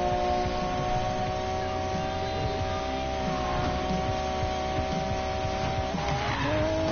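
A car in a racing video game skids with a sustained, steady tire squeal over engine drone, loud and continuous throughout, with a brief shift near the end as the slide changes.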